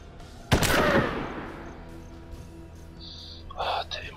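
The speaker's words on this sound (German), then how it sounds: "Komm, verpasst ihm einen mit dem präzisen Schuss." A precise gunshot in the turn-based western video game Hard West, one sharp loud blast with a decaying tail, followed by faint game effects and quiet background.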